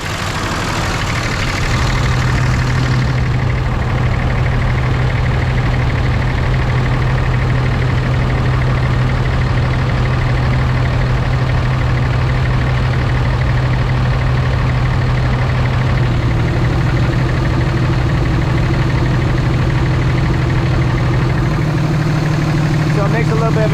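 A 2006 Ram truck engine idling with its exhaust brake engaged gives a loud, steady low rumble that runs throughout. The pitch shifts partway through.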